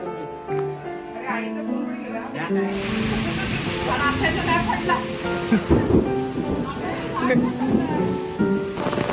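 Heavy unseasonal rain pours in the Konkan countryside with gusty wind, a dense steady roar that swells after a quieter start, while people talk nearby.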